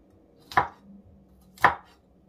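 A knife cuts twice through ingredients on a cutting board while preparing spicy chicken feet (ceker mercon). Two crisp, close chops land about a second apart against a quiet room, with no talking.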